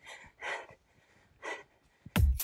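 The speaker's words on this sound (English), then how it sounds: "I'm breathing." Heavy, effortful breathing during a cardio ab workout: a few loud exhales and gasps with pauses between, close to the mic, ending in a sharp burst of breath noise.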